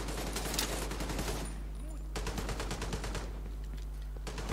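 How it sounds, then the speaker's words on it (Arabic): Heavy machine gun fire in The Division 2: rapid, close bursts of shots with a short gap in the middle, steady and loud over a constant low hum. "ما هو رشاش هذا ثقيل"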